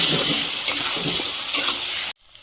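Ginger-garlic paste frying in a pan, a close steady sizzle with occasional stirring scrapes that stops abruptly near the end, leaving near silence.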